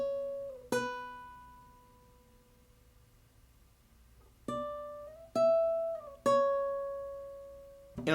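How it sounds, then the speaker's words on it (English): A clean guitar part from the chorus of a lofi beat plucks a few sparse, ringing notes that decay slowly, with long gaps between them. "I added in 2 other guitar parts that were not in the verse and are only featured in the chorus"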